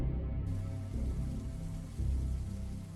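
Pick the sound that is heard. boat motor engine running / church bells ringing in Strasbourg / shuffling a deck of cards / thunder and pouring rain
thunder and pouring rain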